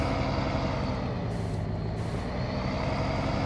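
A truck drives and reverses in Farming Simulator 19, a steady loud engine drone with a hissing burst of air-brake release and faint beeps, no voices.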